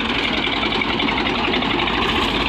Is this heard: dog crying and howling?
no